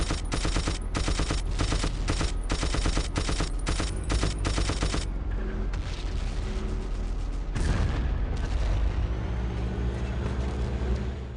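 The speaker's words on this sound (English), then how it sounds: "Even if you fire in relatively short bursts with the machine gun at the tank, somehow you can overheat the machine gun" Machine gun fire in the video game Battlefield 1942, a rapid rattling burst of shots for several seconds that breaks off into rumbling battlefield and vehicle noise, loud and close.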